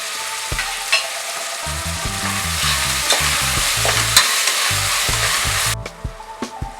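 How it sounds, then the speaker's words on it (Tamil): Mushroom biryani ingredients are sautéed in a pan, with a loud, continuous sizzle and frequent scraping stirs that stop abruptly near the end. "சிம்பிளையே வச்சு கொஞ்சம் அடி பிடிச்சிடாமல் நல்லா வதக்கி விட்டுக்கோங்க"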